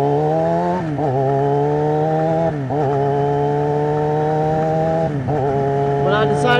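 A 600cc starter motorcycle ridden in the early morning: a loud, close engine drone that holds steady, with short pitch drops at a few gear shifts and no talk.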